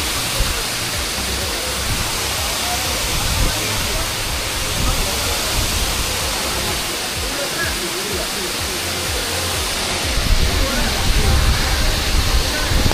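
Khoiyachora waterfall near Mirsarai rushes continuously as a loud, even roar heard from right beneath the falls, steady throughout with slight surges.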